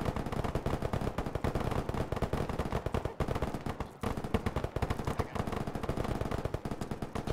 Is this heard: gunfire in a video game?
yes